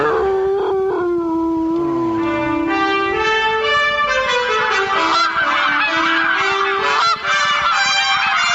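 A Canada goose honks loudly and close, a run of repeated nasal calls that rise into overlapping, howl-like honking, used as a segment sound effect.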